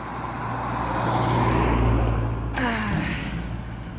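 BMW M4 car engine drones and swells steadily nearby, then a quick shift in tone and a passing whoosh as it moves off, with a low hum underneath.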